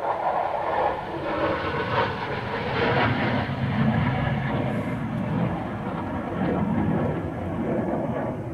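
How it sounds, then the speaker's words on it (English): Train rolling past in an area near an airbase, a steady broad rumble with rail noise sustained throughout at moderate distance, no voices. "Captain Xavier, you may have the train going past."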